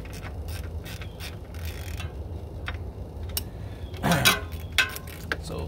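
A ratchet wrench clicks rapidly while loosening a bolt on the water pump pulley of a Jeep Cherokee XJ, a run of quick metallic ticks close up, ending in a few louder clanks.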